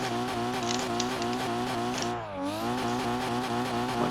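A race car engine in the Formula Sim Drift video game, driven on the Gran Snow Okuibuki course in Japan, screams at high revs with a rapid stuttering buzz against the rev limiter, dipping briefly before climbing again.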